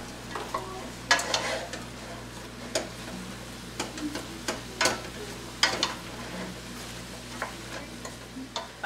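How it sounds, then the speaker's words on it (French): Onions frying in a pan while making menchi, a steady soft sizzle under repeated sharp scraping and tapping of a utensil as they are stirred, clattering at irregular intervals. "on ajoute les oignons"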